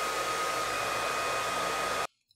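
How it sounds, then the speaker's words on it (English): A hair dryer fitted with a diffuser, used to dry curly hair, roars steadily and loudly at close range for about two seconds before cutting off abruptly into near silence. "So I am going to dry this with a diffuser today."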